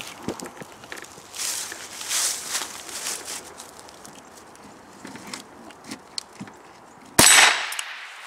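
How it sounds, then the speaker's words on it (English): .22 rifle rounds striking a steel gong target at an outdoor shooting range: scattered light taps and shuffling, then one sharp metallic clang near the end that rings briefly. "I hit the gong twice and I'm the winner."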